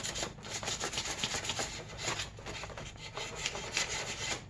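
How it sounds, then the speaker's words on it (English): Sandpaper rubbed by hand over an engine cover from a 1983 Yamaha XV920M motorcycle, close rapid rhythmic scratching strokes, fairly quiet and alone. "now the sandpaper is leaving some light swirl marks"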